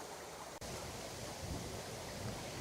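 A river at Dovey Junction in Wales flows under a footbridge, giving a steady, broadband rush of water with some wind buffeting the microphone; there is no talking.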